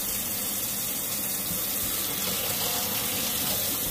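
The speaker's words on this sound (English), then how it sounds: "I'm just going to be running a little bit of lukewarm water into this bowl" Lukewarm tap water running into a bowl, a steady continuous splashing hiss from a faucet, close and even, heard alone.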